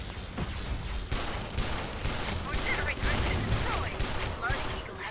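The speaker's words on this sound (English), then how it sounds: "I really don't care for this shotgun too much, but it has its uses." Shotgun blasts and other weapon fire in the sci-fi shooter Tribes: Ascend, with dense overlapping gunfire and booms, a steady loud barrage of battle noise throughout.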